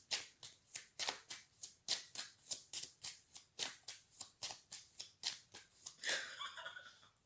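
Tarot cards are shuffled by hand close up, a quick regular run of about twenty crisp riffles and slaps, then a looser rustle of handling at the end.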